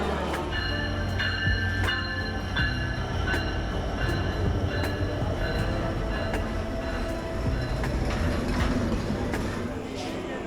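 A train stands at Saidpur railway station with a steady rumble and hiss of the wagons, while sharp metallic clanks and clicks ring out at intervals under faint background voices.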